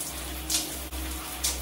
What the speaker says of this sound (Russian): и опять под душ, и медленно-медленно смываем волосы